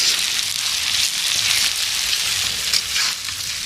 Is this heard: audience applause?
no